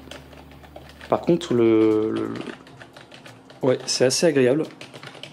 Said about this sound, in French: Donc voici le clavier. Alors c'est pas un clavier mécanique, je tiens à le préciser aussi.